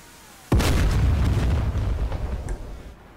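An AGM-12 Bullpup missile fired from an F-4E Phantom in a flight simulator strikes its target in one sudden heavy blast that rumbles loudly, then slowly fades over about three seconds.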